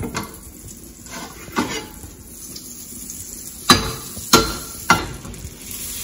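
Salmon pieces sizzle in melted butter in a frying pan, a faint steady hiss under the kitchen, broken by several sharp clacks of utensils against the pan near the end.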